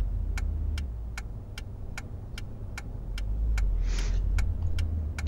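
A Volvo XC90 engine in City Car Driving hums low and steady while cruising, with a regular ticking indicator clicking over it and a brief hiss partway through.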